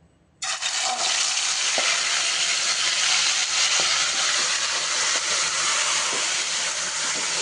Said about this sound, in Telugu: మంట పెద్దగా పెట్టేసి ఒక 5 నిమిషాలు ఆయిల్లోనే ఫ్రై చేసుకున్నాము.